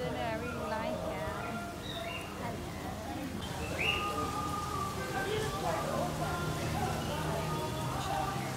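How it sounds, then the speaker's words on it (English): Small birds chirp and twitter in bursts near a water wall at a Tehran eatery, over a constant splashing rush of water and faint background chatter. "And you hear the birds"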